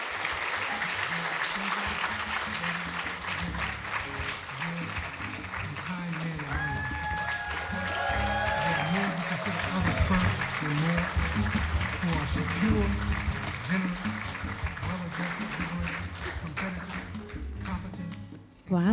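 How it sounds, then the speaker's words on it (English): An audience claps steadily through a session at a conference on healing modalities, dense sustained applause with some crowd murmur and a voice mixed in. "So let's have a round of applause for our next conversation."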